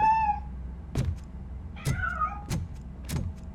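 A cat meows several times in a row, with clear, rising and falling cries separated by short pauses, close and fairly loud over faint background rumble.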